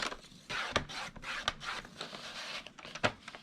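A wood scrap piece is trimmed to 4x4, giving a faint, close rasping, rubbing scrape in short strokes with a few light knocks.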